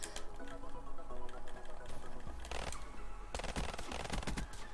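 Rapid automatic gunfire from guns in a video game rattles in dense bursts, loud and continuous over a steady game background, with a sharper cluster of shots near the end.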